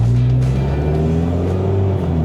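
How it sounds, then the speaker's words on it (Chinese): A Toyota Vios 1.5J NCP150 with a four-speed automatic accelerating uphill on a mountain road, its exhaust a loud, close, steady droning growl with rising engine tones and no voices. "我还是现在才听到你 exhaust 声音诶"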